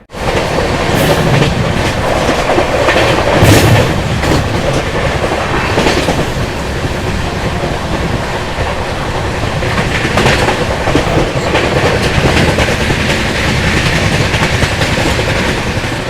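Steady rumble and clickety-clack of a Rajdhani Express 3AC coach running on rails between New Delhi and Dibrugarh, with an oncoming Kanchenjunga Express passing close by; loud and continuous throughout, with no talk.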